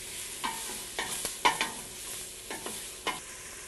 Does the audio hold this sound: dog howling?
no